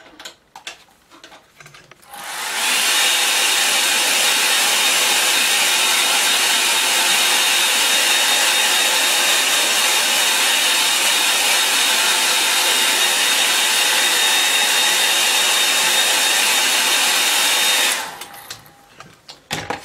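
A hair dryer switches on and runs at full, steady blast for about fifteen seconds, a loud, close, broadband whoosh, then cuts off with brief handling noise at either end.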